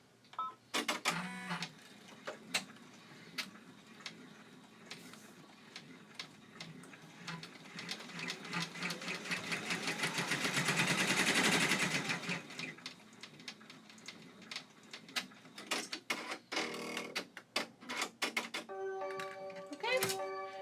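An embroidery machine stitches a pin cushion design in the hoop, producing rapid mechanical ticking and clattering that swells into a whirring burst mid-way, then returns to intermittent clicks, fairly faint.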